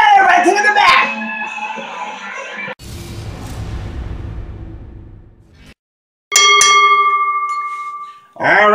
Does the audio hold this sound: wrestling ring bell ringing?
yes